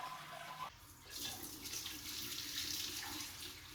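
Sparge water pours and splashes through a bed of mashed grain while brewing a NEIPA beer, a soft steady trickling rush heard close and fairly quiet, with no voices.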